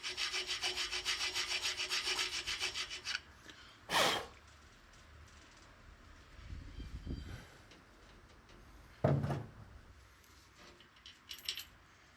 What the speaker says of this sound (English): So I'm just going to use a file.